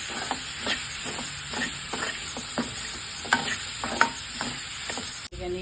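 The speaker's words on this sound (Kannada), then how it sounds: "ಮೂಲಂಗಿ ಬೇಯಿಸ್ಕೊಂಡಿದ್ವಲ್ಲ ಇದನ್ನು ಹಾಕ್ಕೊಳ್ಳೋಣ. ಚೆನ್ನಾಗಿ ಮಿಕ್ಸ್ ಮಾಡ್ಕೊಳ್ಳಿ." A utensil scrapes and stirs boiled radish into salted onions in a pan with soft repeated strokes, over a light, constant sizzle and no talking.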